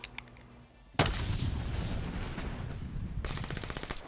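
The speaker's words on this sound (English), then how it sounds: "we're using submachine guns now" Submachine gun fire in Call of Duty: Black Ops 3 on Xbox One, a dense burst of loud gunfire erupting after a quiet moment and rolling on, with a rapid stuttering rattle of shots near the end.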